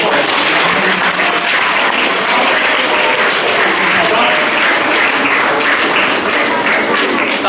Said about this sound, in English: Can we give Mark a nice big round of applause?